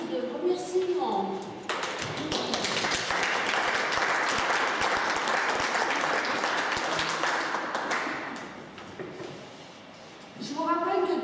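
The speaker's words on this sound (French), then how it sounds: "Je vous demande de les applaudir en guise de remerciement." Audience at a general assembly of the Repas à 5 Francs association applauding in thanks, a sustained dense burst of clapping lasting several seconds before fading, with voices briefly heard at either end.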